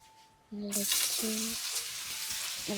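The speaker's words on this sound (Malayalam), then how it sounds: "ഒരു റൗണ്ട് ഫ്രൈ ചെയ്ത് കഴിഞ്ഞ് ഗൈസ് ഒക്കെ എടുത്തു ഞാൻ അടുത്ത റൗണ്ട് ഇടാൻ പോവാണ്" A batch of sausages drops into hot oil after a quiet pause, setting off a sudden loud, close sizzle that carries on steadily, with faint humming tones over it.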